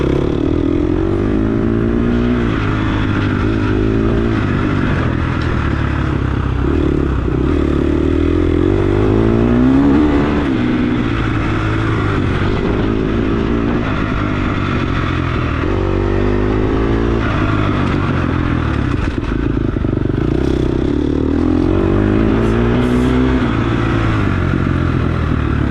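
Off-road dirt bike riding a fresh dirt track at a ride day in Lometa, Texas, engine revving and rising and falling continuously through gear changes, loud and close throughout with no talking.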